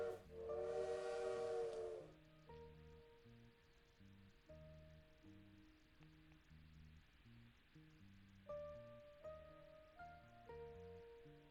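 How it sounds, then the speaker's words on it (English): A train whistle sounds in a game world, a bright sustained steam-whistle blast for about two seconds, followed by soft background music. "It really is the sound of the train whistle."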